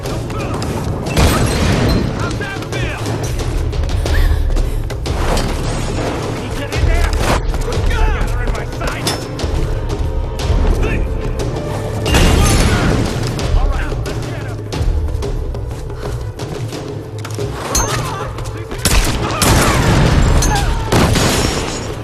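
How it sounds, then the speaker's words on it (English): Tomb Raider combat, with enemies using fire, dynamite and molotovs: dense, continuous gunfire and repeated heavy explosion booms throughout, loud and chaotic, with voices mixed in. "constantly trying to flush Lara out of cover with fire, dynamite, molotovs, and rushing your position"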